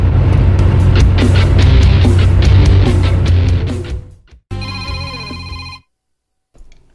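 A phone rings with an incoming call, a bright repeating ringtone that follows a loud rumbling engine and then cuts off into silence.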